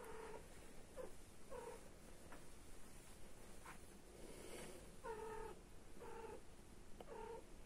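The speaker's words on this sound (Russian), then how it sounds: "Бедная кошка. Видите, что происходит?" A cat recovering from surgery yowls repeatedly in short, strained cries spaced a second or so apart, quiet and close, over a low rustling background.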